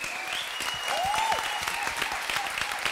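An audience claps warmly after a town-history theatre performance on stage in Grünberg, a dense and steady applause heard close up, with faint whistles rising through it and voices murmuring underneath.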